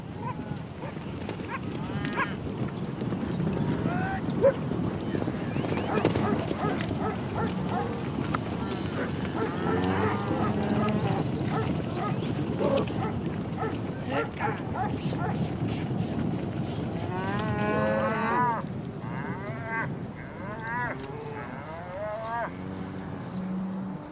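Wild cattle lowing and mooing during a roundup by gauchos with dogs in Patagonia, repeated bellows rising over a busy outdoor din with hoof sounds, someone talking throughout.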